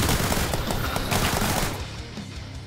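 Rapid, dense gunfire from the Zombie Survivors video game, rattling continuously at close range before easing off toward the end.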